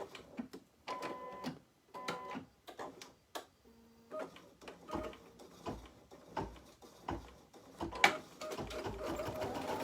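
A home embroidery machine stitches a Happy Halloween design, its needle tapping out a fast, steady mechanical rhythm close by. Brief pauses and shifts in pitch break it up, along with occasional clicks and clunks, and nobody speaks.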